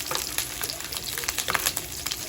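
Pork fat fries and toasts in a hot pan, a steady close crackling sizzle with dense bursts of spattering pops throughout and no talk over it.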